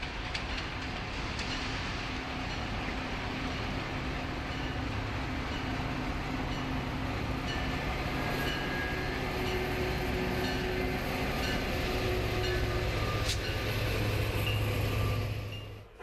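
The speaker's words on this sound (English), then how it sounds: "trains on the Milwaukee District and Union Pacific West lines cross each other at this busy junction" Metra commuter trains pass through a busy railway junction where the Milwaukee District and Union Pacific West lines cross. Wheels rumble and clatter steadily along the rails for the full length, with a few faint metallic squeals and a swell toward the end.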